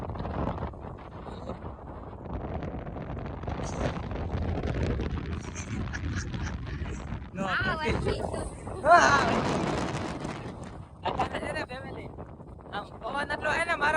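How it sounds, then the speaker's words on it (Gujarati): Strong seaside wind at Koliyak buffets the microphone in heavy rumbling gusts, surging loudest in the middle, while a person talks intermittently underneath. "પવન એટલો હે ને મારો અવાજ નહીં આવતો હોય"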